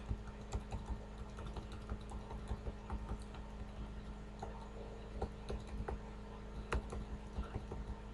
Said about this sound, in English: Let's type the text in between the paragraph.